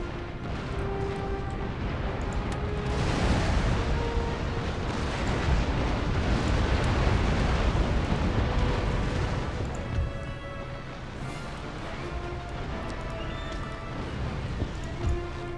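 Repeated cannon broadside fire from warships in the Empire Total War video game: a dense, continuous rumble of heavy booms and crashes lasting throughout, loud and close, with no talking.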